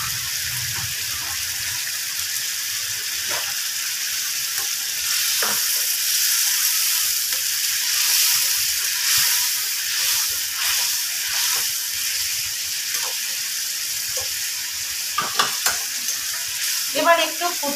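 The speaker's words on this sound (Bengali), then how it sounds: "এবার আমি একটু এতে জল দিয়ে দেব।" Water added to a pan of spice masala for an aar fish curry sets off a loud, close, continuous sizzling hiss, with stirring scrapes and a few clinks of the utensil toward the end.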